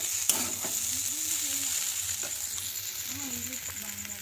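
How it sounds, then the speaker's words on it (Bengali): Potatoes frying in a pan for a home dinner alongside parathas, a continuous soft sizzle with faint stirring scrapes, fairly quiet and steady across the few seconds. "আর এই যে এখানে হচ্ছে আলু ভাজা।"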